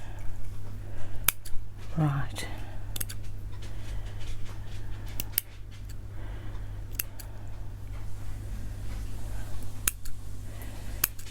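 Small AliExpress scissors cut paper lace for a pink journal cover, giving a few sharp, scattered snips close by over a steady low hum, with a brief spoken word.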